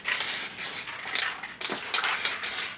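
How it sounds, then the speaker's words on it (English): Short hissing bursts of an aerosol spray can, warmed for pressure, painting Triumph Scrambler heat shields, several quick sprays in an uneven rhythm with brief pauses between them, close and fairly quiet. "I've warmed the can up on this one, incidentally, this last coat, just to get a good pressure coming out of the can"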